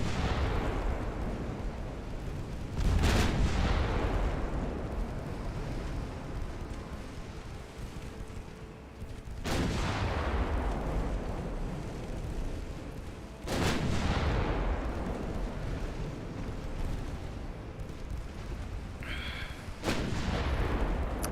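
Warship main guns firing in the naval strategy game Ultimate Admiral Dreadnoughts: four heavy booming salvos spaced several seconds apart, each a sharp blast decaying into rumble, over a steady low background of sea and engine noise.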